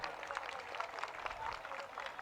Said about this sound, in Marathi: तुमच्यासाठी जोरदार टाळ्या होऊन जाऊ द्या.